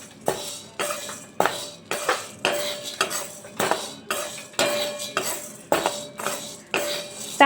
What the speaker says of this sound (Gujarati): કઢાઈની અંદર આપણે અડધા કપ જેટલા સાબુદાણા મૂકશું। સાબુદાણાને આપણે 2 કે 5 મિનિટ માટે શેકી લઈશું।